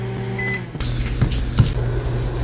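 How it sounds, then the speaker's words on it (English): Microwave oven running while heating stirred egg for chorizo rice, a steady close hum with small clicks and clunks over it. "you put it in the microwave for 30 seconds"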